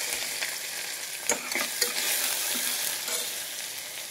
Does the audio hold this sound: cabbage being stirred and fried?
yes